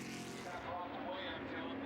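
F5000 race car engines roar past at close range at Ruapuna, a dense continuous drone with shifting pitch as vehicles go by, commentary voices faintly mixed underneath.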